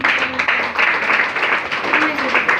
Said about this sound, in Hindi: और एक गुरु जी के लिए फिर से जोरदार ताली।